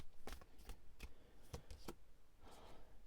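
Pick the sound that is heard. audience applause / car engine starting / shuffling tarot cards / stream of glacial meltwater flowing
shuffling tarot cards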